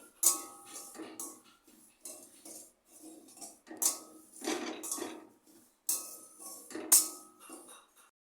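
Dry semolina being stirred and roasted in an empty wok over low gas flame, heard as repeated scraping strokes of a spoon against the metal, with sharp clinks at the start of each stir, fairly close and moderately loud.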